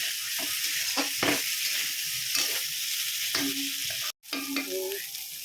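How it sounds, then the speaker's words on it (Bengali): Boiled potatoes and jackfruit fry steadily in oil with turmeric, salt, dried chilli, cumin and bay leaf, making a constant close sizzle broken by a few light clinks of stirring and a brief dropout near the end. "এই যে হলুদ লবণ দিয়েছি, এখন এই যে ভাজা ভাজা করে নিচ্ছি।"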